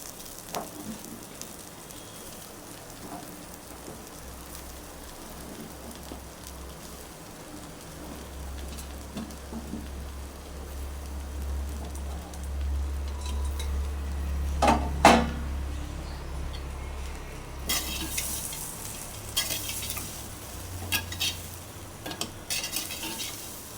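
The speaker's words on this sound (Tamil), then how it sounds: "சட்டியில் இப்போ பாவக்காயை சேர்த்துடலாங்க" Bitter gourd pieces frying and being stirred in a pan, with a soft continuous sizzle, scraping and clinks of a spatula against the metal that grow louder toward the end, and no talking.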